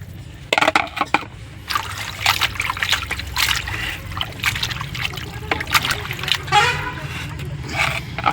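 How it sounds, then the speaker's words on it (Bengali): Water trickles and splashes into a bowl while raw local chicken meat is being washed, a close, continuous pouring and dribbling with a few sharp clatters early on, and a voice speaking over it. "আবার আমি জল পানি ঢেলে নেবো, আবার মাংসটা এখানে ঢেলে দেবো।"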